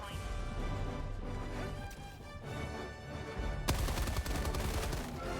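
Rapid automatic gunfire from a machine gun in the video game Helldivers 2, a dense, continuous rattle of shots with game sounds in the background, growing harsher and louder near the end.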